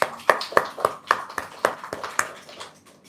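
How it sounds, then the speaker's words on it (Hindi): Scattered hand claps from a small indoor audience during a general question session, about a dozen sharp separate claps in an uneven rhythm, fairly close and moderately loud, with no talk over them. "तालियां इसके लिए"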